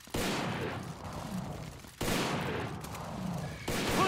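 Gunfire in the handheld game Earth Defense Force 3 Portable during a city battle: sustained loud bursts of automatic fire that cut out briefly and start again twice, with no voices.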